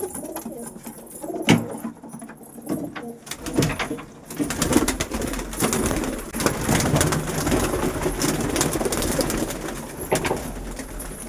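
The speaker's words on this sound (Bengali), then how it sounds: "এই যে পায়রা ছাড়ছি সব, এগুলো জোড়াধারী পায়রা" Paired male and female pigeons are let out and coo, with soft repeated calls and scattered clicks, scuffles and brief knocks close by over a busy background.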